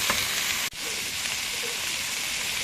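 Chicken wings seasoned with salt and pepper frying in hot oil, a dense steady sizzle and hiss close up, briefly dipping once before carrying on alone.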